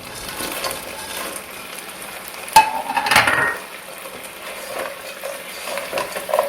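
Fried potatoes tossed and sautéed in a pan with a little water for chilli potatoes, giving a steady soft sizzle under scraping stirs and one sharp clack of the utensil midway.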